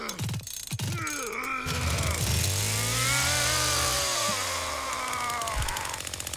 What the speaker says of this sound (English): Start chainsaw.